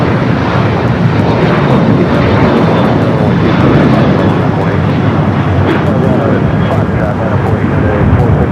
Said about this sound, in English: Taking off here on the south side.